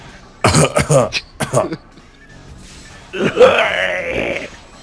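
Deliberate coughs and throat clearing from people chatting during a Phantasy Star Online play session: a quick burst of rough, close coughs, a pause, then a longer gravelly throat clear, loud and near.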